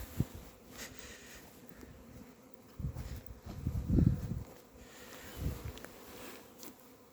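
Honeybees fly out of a hive in early spring, a constant buzzing hum with individual bees swelling louder as they pass close, nearby and outdoors with no talk.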